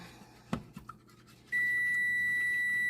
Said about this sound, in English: That's my alarm telling me my rice is done.